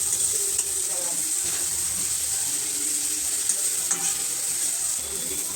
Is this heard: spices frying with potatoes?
yes